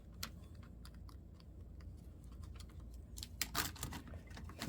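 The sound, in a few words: typing on a new laptop keyboard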